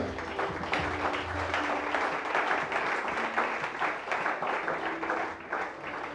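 A church congregation at a Sunday worship service breaks into sustained, dense applause, with steady clapping filling the room for the whole stretch and a faint murmur of voices underneath.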